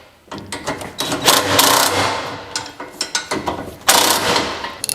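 A hand ratchet snugging up the bolts of an Asfir fuel tank skid plate, giving bursts of close, rapid mechanical clicking in several separate runs.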